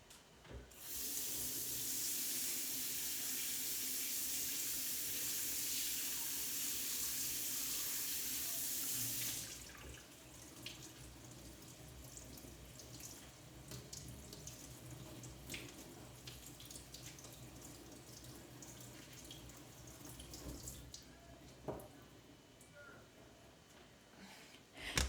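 Tap water runs steadily into a sink while something is washed, a loud continuous hiss for about nine seconds, then the flow stops and quieter kitchen handling noises and faint clatter follow.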